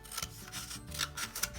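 A cardboard toilet roll is being cut for a recycling craft. Quick rasping, rubbing strokes repeat in a close, fairly loud rhythm for a second or two.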